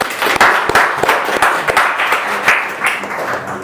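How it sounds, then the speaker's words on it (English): An audience at a technical conference talk breaks into applause, a loud, dense burst of many hands clapping that stays strong for several seconds. "Give me a round of applause, Prelude"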